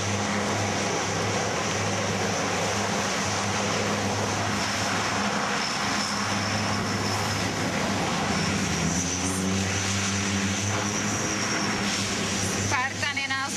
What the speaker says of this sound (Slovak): lietadlo Spartan je schopné sa na veľmi malom priestore otočiť a odrolovať na letovú stojanku